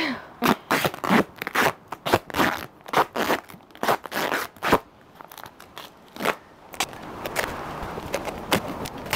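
A boxed flip phone package being unwrapped by hand, crinkly plastic and paper crunching and tearing in quick repeated bursts, close and loud, fading into a steadier rustle near the end.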